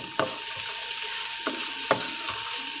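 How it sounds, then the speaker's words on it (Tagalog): Chopped onion and garlic sautéing in a hot pan for sotanghon with vegetables, a steady close sizzle with a few sharp scraping stirs at intervals and no voices. "Malasahan ang sibuyas sa bawang."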